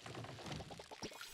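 Plants being watered in a cozy video game: brief, faint pouring and splashing of liquid, quiet and steady, with small bubbling bursts and no voices.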